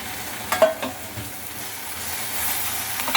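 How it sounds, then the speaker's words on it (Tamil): Curry leaves and coriander are sautéed in a pan for ginger-tomato chutney, with a continuous crackling sizzle and a couple of brief stirring knocks near the start. "கொத்தமல்லி எடுத்து வச்சுருக்கோம் இதை எல்லாத்தையும் போட்டு வதக்கிடலாம்"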